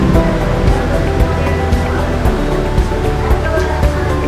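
Hot water poured over 15 grams of freshly ground coffee in a V60 dripper for the first bloom pour, a steady continuous watery rush close to the microphone, with faint low hum underneath.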